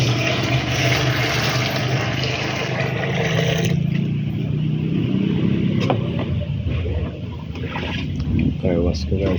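Water runs from a tap into a container for a car wash with foaming shampoo, a loud, steady gushing that stops after about four seconds, followed by quieter handling noises and speech.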